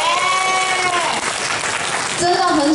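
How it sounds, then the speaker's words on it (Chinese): Audience at a singer's autograph-signing concert in Tainan breaks into sustained applause, with raised cheering voices mixed into the dense clapping throughout. "我们再次先给朋友们掌声"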